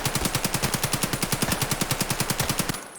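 An AKM rifle in Escape from Tarkov fires on full auto: a fast, evenly spaced burst of about two dozen loud, close shots that cuts off abruptly near the end.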